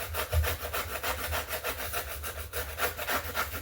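The paper edge of a small handmade mushroom journal is roughed up with repeated scraping strokes, a steady rhythmic rasping like sanding or filing, close and continuous with no talk.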